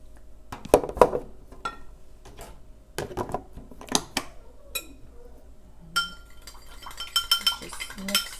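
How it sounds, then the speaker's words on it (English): A sugar mixture is stirred in a bowl by a child preparing Japanese New Year food at home, giving scattered clinks and scrapes of utensil against dish with quiet pauses between bursts, close up. "Just mix this up."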